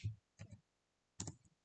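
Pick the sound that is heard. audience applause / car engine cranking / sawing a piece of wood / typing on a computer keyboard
typing on a computer keyboard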